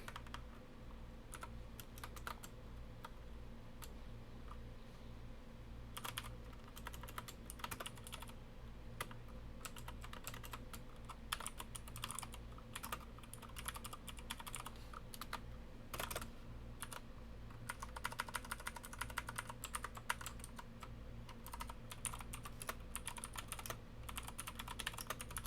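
Steady typing on a Bluetooth computer keyboard, dense rapid key clacks running the whole stretch over a low constant hum, with slightly busier bursts toward the end.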